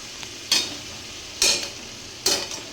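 Bombay duck fish in spice paste being stirred in a frying pan, three distinct scraping strokes spaced about a second apart over a soft, steady sizzle.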